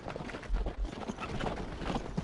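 Horses trot in Gettysburg: Scourge of War, their hooves clip-clopping in a soft, irregular patter over a low ambient rumble, fairly quiet and steady without speech.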